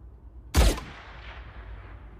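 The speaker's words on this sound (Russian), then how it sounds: "Выстрел с глушителем." A single suppressed gunshot from the film Riddick gives one short, muffled thump, followed by a soft fading tail over a low background hum.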